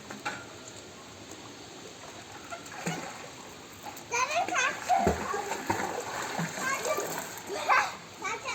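Children splashing while bathing outdoors in water, a group bathing together on a holiday outing; irregular splashes and splatters grow busier in the second half, with kids' voices and chatter mixed in.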